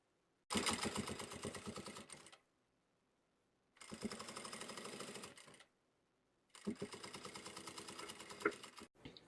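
Sewing machine stitching a folded binding onto fabric for a makeup pouch, running in three bursts of about two seconds each with short silent pauses between, steady and close.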